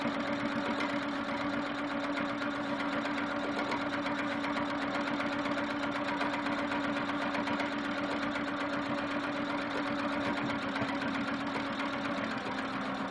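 A sewing machine runs continuously while stitching a meandering quilting stitch on a quilt block, a steady close mechanical whir with a rapid needle chatter and a constant motor hum.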